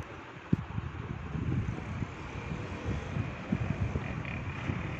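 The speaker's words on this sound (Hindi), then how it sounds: "ठंडी हवा चल रही है" Cold wind on a rooftop terrace in the evening, a steady low rush buffeting the microphone with a few small knocks and rustles throughout.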